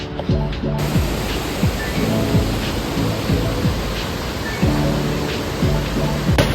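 Waterfalls cascading in Krka National Park, Croatia, a loud continuous roar of rushing water filling the scene close by, steady throughout with no talk.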